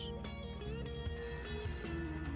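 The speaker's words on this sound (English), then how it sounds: "Their goddamn phone's ringing again" A telephone rings repeatedly in the video game Serial Cleaner, a retro bell-style ring pulsing over a game soundtrack with music and tones, no voices.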